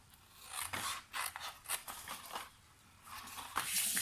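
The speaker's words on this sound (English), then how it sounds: "let's cut up the score lines" Scissors snip along score lines in paper for a small gift box, a series of short crisp cuts and rustles close by, with a quieter pause before a final few snips.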